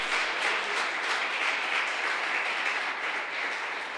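Church congregation clapping in praise, a broad, even wash of many hands at moderate loudness that holds for a few seconds with no voices over it.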